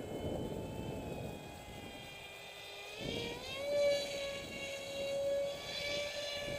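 An RCPowers F18 radio-controlled model jet with a 7x4 propeller and thrust vectoring flies overhead in wind, giving a steady whining drone that rises and falls in pitch as it passes at a distance.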